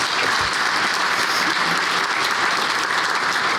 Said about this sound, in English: When the person speaking takes a break, you're supposed to clap.